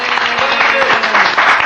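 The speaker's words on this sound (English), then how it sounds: "I think that deserves another big clap," An audience breaks into applause to congratulate an honoree, a short, steady burst of many hands clapping that fills the space evenly from start to finish.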